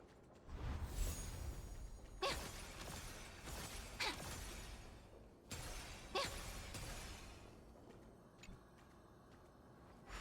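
Glass-like shattering bursts crash repeatedly in Honkai: Star Rail, several sharp breaking impacts spread over ten seconds with crumbling debris and a whooshing tail, loud and alone without talk.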